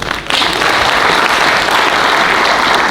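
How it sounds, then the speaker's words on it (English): An audience applauds speakers at a talk, a dense, loud burst of clapping that starts abruptly and holds steady without voices. "I think they need for themselves a clap."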